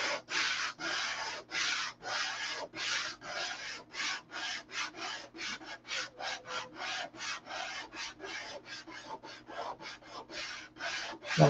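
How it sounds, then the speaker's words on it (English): Hand sanding with sandpaper on a soft foam block, smoothing the canopy of a P-47 model: a steady run of about thirty long rasping strokes in even rhythm, close and moderately loud, with no talk. "I want you to see how easy this stuff sands. Nice long stroke."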